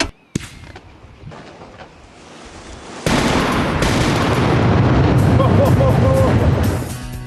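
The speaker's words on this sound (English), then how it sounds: "The thunderous roar of the mid-air explosion makes its way towards France" Six salute shells burst in mid-air in a loud, sustained barrage, with a sharp crack early on, a short lull, then a dense rolling roar of overlapping blasts that fades toward the end.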